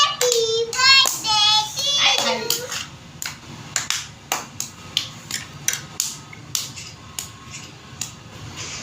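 Sharp hand claps ring out at a family birthday celebration, first under a child's and adults' singing and talk, then as a steady rhythm of distinct, fairly close claps that fades and slows toward the end.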